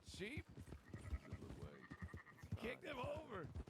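Sheep bleating in the video game WildRP, several wavering close bleats in a row, with one long cry toward the end.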